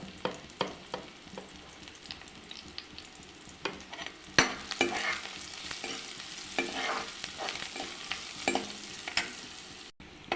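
Chopped onion with turmeric sizzling in a wok, with a steady fry hiss broken by repeated clicks and scrapes of stirring, close and moderately loud, no voices.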